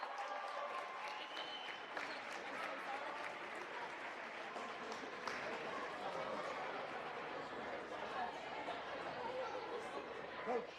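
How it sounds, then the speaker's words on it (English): Audience applause at a high school boys varsity wrestling senior night in a gym, sustained clapping from a crowd with chatter mixed in, steady and fairly distant for about ten seconds. "Let's give them a big round of applause"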